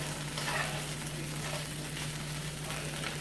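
Food browns in a hot pan for a Mexican-style breakfast, giving a steady, close, dense sizzle and crackle that stays even throughout, with no voices.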